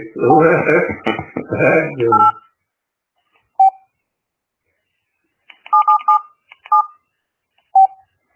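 Telephone keypad buttons sound short DTMF beeps, single presses then a quick cluster, clear and close after a person speaks briefly at the start.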